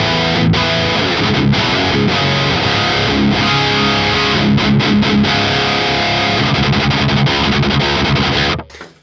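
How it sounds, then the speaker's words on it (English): Loud, heavily distorted high-gain modern metal electric guitar through an NRG Reactor IV playing thick chugging riffs continuously, cutting off abruptly at the end. "Now that is the modern metal tone right there."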